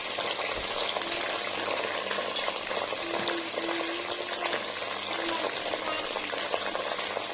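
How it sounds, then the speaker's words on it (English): Ingredients for Nigerian Ofada sauce cook gently in oil in a pot, giving a continuous, even frying sizzle with bubbling texture. A few faint tones and clicks sit underneath, and no one speaks. "So they just steam slightly in the oil, not to get dried, not to get fried, but just to steam nicely and coat the flavor inside"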